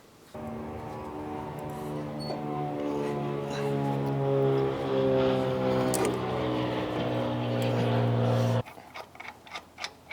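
A Toyota Tacoma pickup with new hubs and wheel bearings drives on a test run, its steady engine drone holding for about eight seconds with slowly shifting pitch before cutting off abruptly into a few faint knocks.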